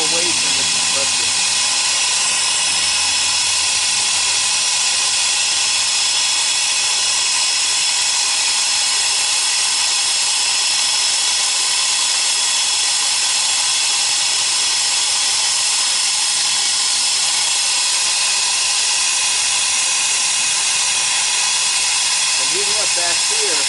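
Brazing torch burning a medium-hot flame on a refrigeration line, a steady broadband hiss that holds loud and constant throughout with no break.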